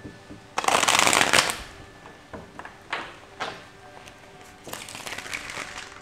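Tarot cards being shuffled and cut, a loud riffling burst near the start followed by several shorter brisk shuffles and taps, close up with no talking.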